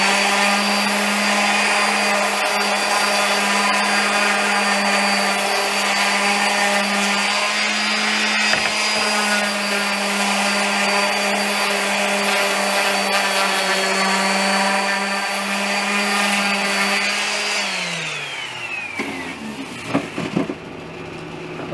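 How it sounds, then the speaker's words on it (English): Power sander running steadily on wooden boards for a vinyl record storage build, a loud continuous motor whine with a droning hum that holds for most of the stretch, then winds down and stops near the end. "I'm just going to give them just a light sand, get the oils off, the dirt off,"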